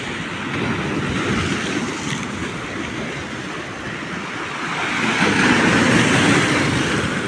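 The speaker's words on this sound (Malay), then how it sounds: "Ombak kuat lah geng." Strong surf crashes at a beach at Tanjung Rhu, heard from a fishermen's jetty at high tide as a continuous loud, broadband roar that swells slightly toward the end.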